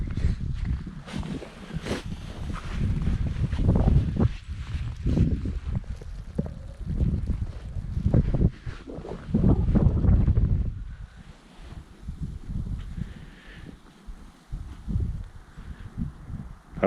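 Strong wind during a snowstorm at an ice hut on a frozen lake buffets the microphone in uneven low gusts, with rustling and crunching handling noises close by.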